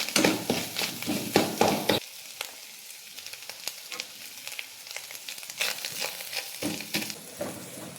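Grated coconut fries with sliced shallots and garlic in a pan, a steady close sizzle with a louder burst at the start and another stirred surge near the end, alone without voices.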